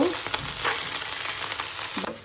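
Beef chaap frying in hot oil with ginger, garlic, salt and fried spices for a Bengali shahi beef chap bhuna, a steady close sizzle with a few sharp spatula scrapes, no talk.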